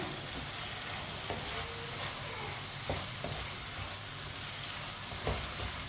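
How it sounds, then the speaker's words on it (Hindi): Finely chopped capsicum sizzles and fries in a hot pan while being stirred, a steady close crackle broken by a few sharp scrapes and taps of the spoon against the pan. "1 प्याली शिमला मिर्च बारीक कटी हुई। मिक्स कर लेंगे। मिक्स करके 2 मिनट के लिए पका लेंगे।"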